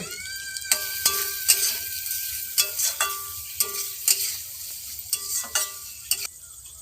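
Ground chili, turmeric, cumin and salt with a splash of spice-paste water are stirred in a frying pan for egg rice with potato curry, a soft sizzle under repeated quick scraping strokes of a spoon, close and fairly quiet.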